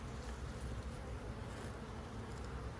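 Honey bees in a busy hive with honey, comb and brood buzz in a dense, steady drone, faint but continuous throughout with no voices.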